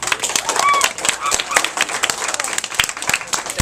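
A classroom of children clapping for a guest, a dense, uneven patter of many small hands close by, with faint voices and squeals mixed in.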